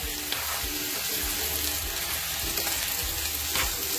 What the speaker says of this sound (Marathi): आणि चांगलं फ्राय करून घ्यायचं, हलवून घ्यायचं।